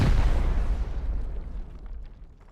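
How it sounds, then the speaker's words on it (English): Rocket explosion against a base in Rust on console, a loud, deep boom right at the start that rumbles and fades away over a couple of seconds. "you've already committed, what was that, 3 or 4 rockets?"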